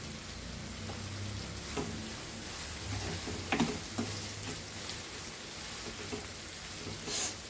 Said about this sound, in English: Fry this for around 5 minutes on medium flame.